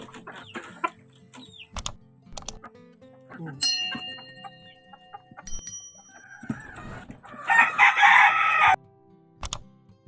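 Hungry pet chickens at a small breeder's yard cluck in scattered bursts while a rooster crows nearby, with a loud dense burst of calls near the end and occasional talk between.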